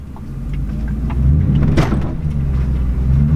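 A four-wheel drive vehicle drives over rough ground at a campsite by a river, its engine rumbling steadily and loud with a brief clatter midway, no talking.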